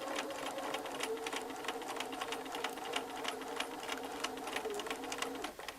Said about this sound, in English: try not to stretch it as you're sewing